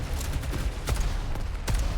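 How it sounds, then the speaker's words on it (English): Rapid gunfire and grenade launcher blasts from the video game Control crackle through dense, continuous action noise, with a couple of sharper booms standing out. "this is the grenade launcher"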